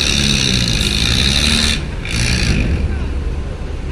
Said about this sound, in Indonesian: Susah sekali ya manuver kendaraan bus ini kalau sudah mepet-mepet nih.